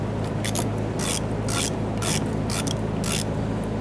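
A ratchet loosens a rusty 10mm bolt on the fuel pump module of a 2005-2021 Nissan Frontier 4.0L V6, giving a rapid run of clicks in short repeated bursts over a steady background noise.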